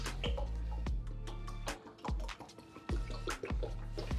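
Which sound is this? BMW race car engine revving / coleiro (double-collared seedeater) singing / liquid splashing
liquid splashing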